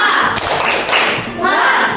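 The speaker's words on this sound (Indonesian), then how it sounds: "Tepuk semangat." Classroom of fifth-grade pupils clapping together in a quick, loud burst of rhythmic hand claps with thumping beats, close and dense, followed by a brief voice.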